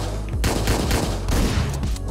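Dense, rapid gunfire from the top-down shooter Hotline Miami 2, a loud, continuous fusillade of overlapping shots filling the whole stretch with no pauses.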